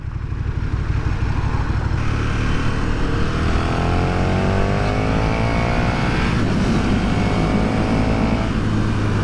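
2020 KTM Superduke R naked motorcycle engine rumbling loudly and steadily while riding on the road, with rising engine tones as it pulls and wind rush throughout.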